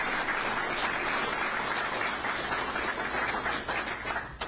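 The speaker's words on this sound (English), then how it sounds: "please give a big round of applause to these guys" An audience at a press conference applauds in a room, a dense and continuous clapping that stays loud and steady for several seconds with no speech.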